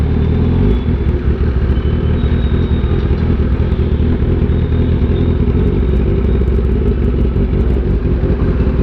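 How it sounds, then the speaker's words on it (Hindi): A Kawasaki ZX10R superbike engine runs steadily and loudly up close in an enclosed, echoing space, with a faint ticking clatter from a cam chain tensioner fault mixed into the continuous drone, and no talk. "I'm getting little CCT sound, so yeah, cam chain tensioner."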